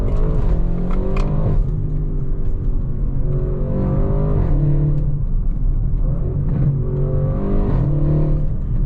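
A tuned 750HP Audi RS6 engine revs and accelerates loudly and up close, its throaty roar rising and falling in pitch through several pulls.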